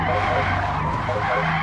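A car handbrake skid in the video game Forza Motorsport (2023): loud, close tire screech riding over a droning racing engine for the whole moment, steady and continuous.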